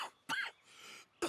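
A character in the video game Red Dead Redemption 2 coughs in three harsh, close bursts separated by short pauses, with a faint rasping breath between them and no talk.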